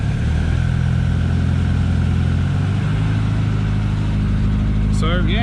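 A K-series-engined MG Midget runs at a steady, fairly loud idle, its low engine hum holding an even rhythm throughout, with a brief higher-pitched whine or squeak near the very end.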